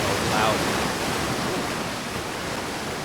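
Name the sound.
loud waterfall in the video game Outer Wilds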